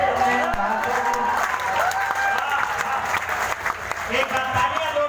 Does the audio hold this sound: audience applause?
yes